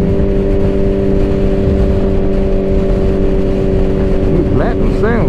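A Suzuki Hayabusa motorcycle engine drones steadily and loudly while being ridden in winter, holding a constant hum before rising revs sweep upward near the end.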